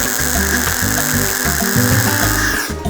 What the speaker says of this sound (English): Bolt the V-band up and see how it sits.